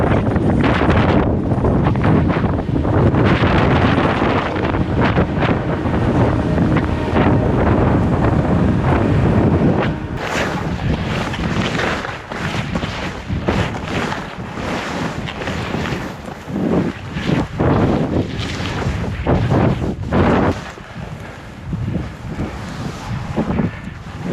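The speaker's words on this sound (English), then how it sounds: "Wind is picking up big time." Strong wind roars across the ski slope of Empire Bowl at Deer Valley, buffeting the microphone in loud, dense gusts that ease slightly halfway through and then surge again in rough bursts.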